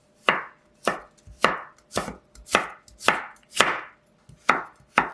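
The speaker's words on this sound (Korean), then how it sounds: "당근은 5조각만 슬라이스해서 채 썰어줄게요." A knife julienning carrot slices on a cutting board, nine crisp strokes spaced evenly about half a second apart, close and clear with no talking.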